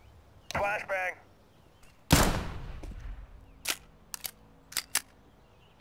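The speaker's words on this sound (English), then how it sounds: "Flashbang." A flashbang grenade goes off in Counter-Strike: Global Offensive with a sharp loud bang that decays over about a second. A voice speaks just before it, and scattered footsteps or clicks follow.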